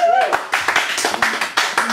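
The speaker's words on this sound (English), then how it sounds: "More applause." Audience applause after a performance of Shakespeare and Marlowe pieces: steady, close clapping from a small crowd, with a voice underneath.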